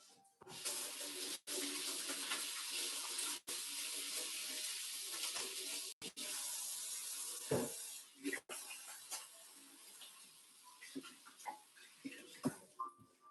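Hands scrubbed under a running kitchen tap before rolling spring rolls, a steady close rush of water with brief breaks, then splashes and rubbing as the flow is cut and the hands are shaken off.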